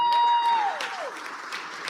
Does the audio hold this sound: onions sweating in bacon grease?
no